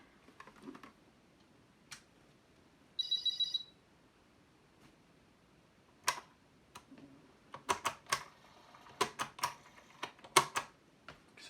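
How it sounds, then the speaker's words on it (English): Clacky keystrokes on a MiniPET computer keyboard, a home-built Commodore PET clone running BASIC 4.0, come in short irregular bursts and single taps, with a brief electronic beep near the start and no talking. "It just so happens I happen to have a keyboard available"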